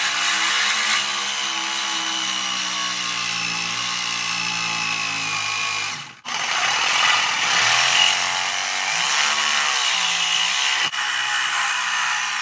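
A power tool cuts through a car's exhaust pipe, a loud, steady, whining drone with a shifting pitch, broken by a short pause partway through before the cutting resumes.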